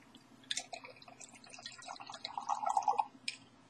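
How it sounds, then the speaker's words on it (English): Jarro Viejo añejo tequila poured into a glass, a short close trickle and splash of liquid with a few drips and clinks, quiet and alone. "Let me pour."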